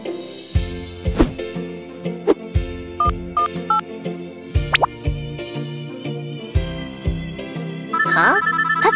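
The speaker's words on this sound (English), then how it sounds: "That's my phone ringing." A mobile phone ringtone plays as a bright melodic tune of repeated chimes over a steady rhythmic backing, fairly loud and close, with the pattern building toward the end and no talk over it.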